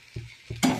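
A kutka dish being stirred as it fries in a pan over low gas: two soft scraping strokes, then a brief burst of sizzling, close and fairly quiet.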